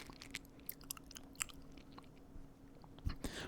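Someone eats a milk chocolate crunch bar close to the mic, with soft irregular chewing and small crackly crunches spread across the clip, quiet and alone.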